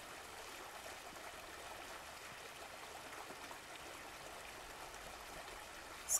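A waterfall produces a faint, continuous rushing hiss of falling water, steady and even from start to finish with no other sounds standing out.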